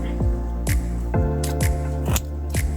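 Scissors cutting through cardboard for a handmade toy phone, a rhythmic series of crisp snipping crunches roughly every half second, close and fairly loud over a steady low hum, with no talk.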